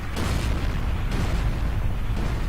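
A grenade detonates in Forgotten Hope 2 on the Pointe du Hoc battlefield, heavy booming blasts rolling over a constant low rumble of distant combat, with sharper bursts recurring about every second.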